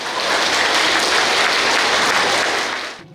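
Audience applause at a comedy gala held at a Buddhist temple, a dense, even wash of clapping sustained for about three seconds before fading out.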